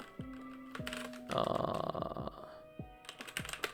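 Quick, uneven bursts of computer keyboard typing with clicky keystrokes, paused now and then, under a low background hum and a few chair or desk noises.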